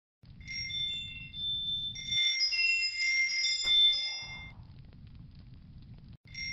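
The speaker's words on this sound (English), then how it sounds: "When I hit the keys, I get these chime sounds." Bright chime tones ring out from letter key presses in the video game SUPERMOONS, a cluster of clear bell-like pings sustained for a couple of seconds over a soft low hum that drops out while they sound.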